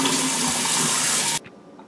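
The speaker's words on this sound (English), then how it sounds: "the first step, we're gonna wash the okras" Tap water runs steadily onto okra being washed in a sink, a loud continuous splashing rush that cuts off abruptly near the end, leaving a quiet room.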